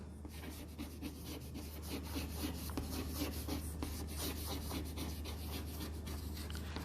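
Chalk or marker writing a chemistry element symbol on a board, heard as a steady close scratching and rubbing over a constant low hum, with no talking.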